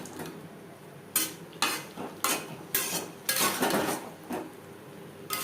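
Fried mourola fish being stirred into sponge gourd in a pan, a spatula scraping and clinking against the metal in steady strokes over a soft, continuous sizzle.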